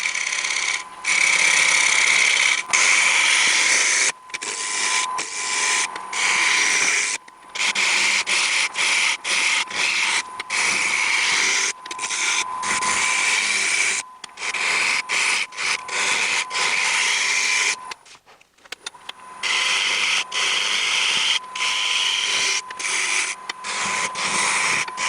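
A wood lathe spinning at about 1000 RPM while a tool cuts an off-center bowl blank, giving a loud continuous scraping hiss with frequent brief breaks and one longer pause, close and steady throughout.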